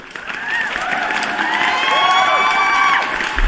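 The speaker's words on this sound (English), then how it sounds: "Let me give you a round of applause, guys." A crowd applauding and cheering with whoops during a live crypto trading stream, loud and sustained for a few seconds, with shouted voices mixed into the clapping.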